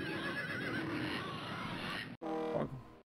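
Horse sound effect from the Stunt Island video game: a long breathy whinny followed after a short break by a sharp, shrill neigh, isolated and close.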